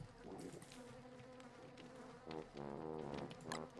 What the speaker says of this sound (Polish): Co tak? Muchy.